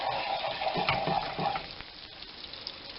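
Butter foaming and sizzling in a frying pan for sole meunière, a steady crackling fry with a few soft stirring scrapes, close and moderately loud, with no talking.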